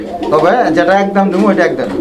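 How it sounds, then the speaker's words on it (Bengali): A pair of pigeons at a market coo loudly and close, continuous rolling throaty calls with people talking alongside. "এখানে এক জোড়া কবুতর"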